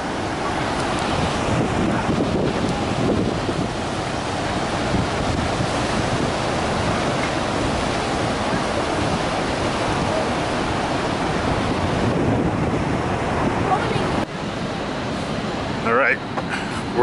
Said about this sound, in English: just given how rough the water is.